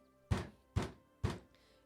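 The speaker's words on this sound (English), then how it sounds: "You hear banging at your door." Someone bangs on the front door of a house, three heavy, evenly spaced thuds, loud and close, with short decays between blows and no voices.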